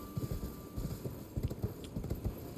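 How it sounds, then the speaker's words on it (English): A horse's hooves clip-clop at a steady trotting rhythm in the video game Elden Ring, a run of close, dull thuds repeating evenly over a quiet hiss. "No more horsey from here."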